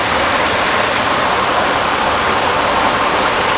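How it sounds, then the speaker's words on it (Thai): Mountain stream flowing steadily in a forest near Ban Pang Hai, Doi Saket, Chiang Mai; a continuous, dense rushing of water, close and loud, with no talking. "อยู่กับสายน้ำฟังเสียงธรรมชาติ"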